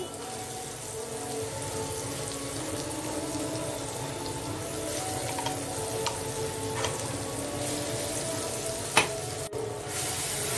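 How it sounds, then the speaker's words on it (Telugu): Mustard paste and coconut frying in a pan for mustard rice, a steady close sizzle under repeated stirring strokes and a few sharp utensil clicks, with no talk. "మనకు పచ్చి వాసన పోయేంత వరకు మనము కొద్దిగా వేయించుకోవాలన్నమాట"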